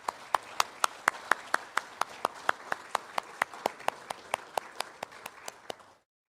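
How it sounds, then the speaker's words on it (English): A single set of distinct, evenly spaced hand claps, about twenty in a steady rhythm, near and fairly quiet, stopping abruptly just before the end. Offered in thanks to volunteers at a community gathering. "Can we have a big round of applause for all of our volunteers?"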